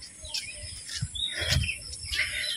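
A bird by a river chirps in short repeated tweets over steady outdoor ambience and faint rustling noise, moderately close.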